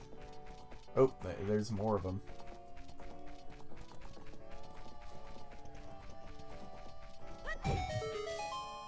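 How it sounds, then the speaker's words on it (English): Horses in the video game The Legend of Zelda: Ocarina of Time, hooves clip-clopping by and a whinny rising over background game music, while someone talks over it. "Don't get run over by the horse."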